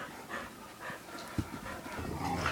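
Dogs playing in a house, with quick panting, snuffling and small scuffles and thumps at close range, fairly quiet and continuous throughout.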